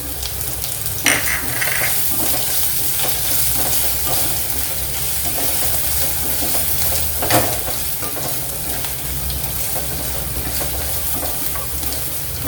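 Browned onion with ginger, green chili and garlic frying in a pan, a steady loud sizzle punctuated by occasional spoon clinks and stirring scrapes against the pan.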